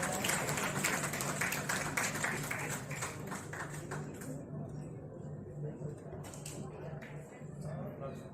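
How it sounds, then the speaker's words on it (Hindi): Welcoming applause at a university honors ceremony, a hall audience clapping steadily for a few seconds, then thinning to scattered claps under a low hum and murmur. "सौरभ शर्मा जी, एक बार जोरदार तालियों के साथ स्वागत"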